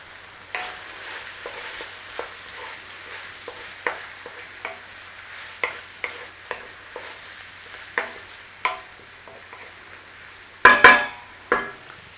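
Onions sizzle softly in a pan while a utensil stirs and taps against the metal in irregular clacks, ending in a louder clatter near the close.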